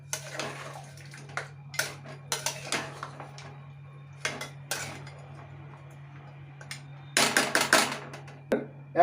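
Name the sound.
stirring mutton curry in a pot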